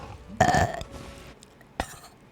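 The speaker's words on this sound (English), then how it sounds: "Burp." A single loud, drawn-out burp from a VTuber, close to the microphone, followed after a pause by a short guttural sound.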